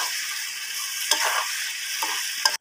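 Fish and potato curry sizzling in a pot on a clay village stove, with steady frying hiss and a few scraping stirs of a spoon through the thick gravy, close and continuous.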